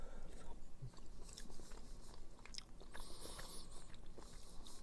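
Close, crunchy chewing of a lump from powdered instant noodle soup, with a few irregular bites and crunches over a quiet background.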